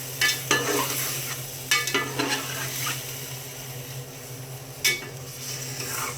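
Chicken pulao is being mixed in a pot, with a few sharp scrapes and clinks of the spoon against metal over a soft, steady sizzle in the background.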